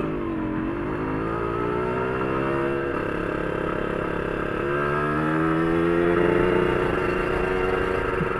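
A Yamaha RXZ two-stroke motorcycle fitted with an underslung racing exhaust rides steadily, its engine drone rising and falling through gear changes, loud and continuous with road wind; a voice speaks briefly.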